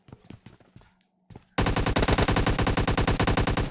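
Gunfire in an intense shooter video game: a few scattered single shots, then a sustained rapid automatic burst that dominates the last two seconds, loud and close.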